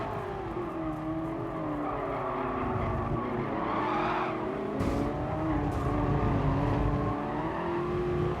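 A race car in GT Sport slides its rear out mid-corner, engine droning and shifting in pitch while tires squeal and skid continuously, heard up close with no talking.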